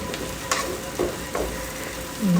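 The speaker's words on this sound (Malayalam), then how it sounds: "ഇനി നമുക്കത് കുറച്ചുകൂടെ വഴലാനുണ്ട്" Fried prawns are sautéed in a pan: a continuous close sizzle with a few soft scrapes of the spatula at intervals and a brief rise at the end.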